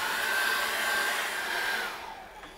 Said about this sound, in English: I'm just going to dry that off very quickly with a hairdryer.